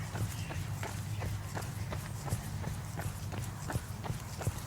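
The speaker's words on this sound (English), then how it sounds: "hear my footsteps" Steady running footsteps on an outdoor path during a guided run, a regular rhythmic patter of footfalls close by, continuing throughout at an even pace.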